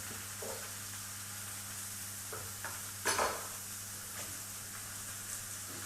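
Apples sizzle softly in a pan as blue cheese is crumbled in, a constant low frying hiss with a steady hum beneath and a few light clinks and one brief louder scrape.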